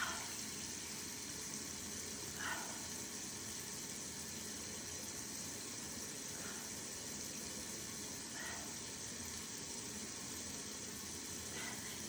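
Steady tap water runs from a bathroom faucet for rinsing a face and wetting a face cloth, a constant hiss with a few faint splashes and no talking.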